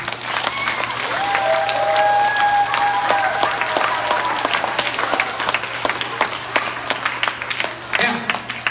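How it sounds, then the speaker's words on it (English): An elementary school audience applauds during a school assembly program with dogs. The clapping is dense and steady, with scattered sharp claps near the mic and a few tonal squeals or voices in the crowd. "Give them a round of applause."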